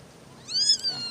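A newborn kitten, abandoned in a cardboard box, gives a single high, thin meow that rises and falls. It sounds close and fairly clear over faint background noise.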